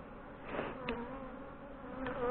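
Agitated honey bees buzz at an open hive box during a honey harvest at a fireweed location, a close, steady high-pitched drone with individual bees swelling past now and then.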